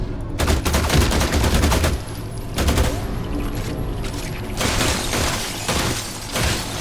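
A pistol-sized shotgun fitted with a breacher barrel fires repeatedly in The Last Caretaker, loud heavy blasts coming in quick succession over a dense, noisy background.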